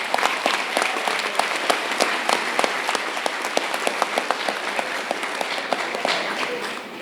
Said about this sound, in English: So give the teachers a round of applause.